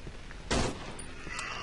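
A single short, loud gunshot burst rings out in the horror video game Cry of Fear, standing briefly above a quiet, murky background.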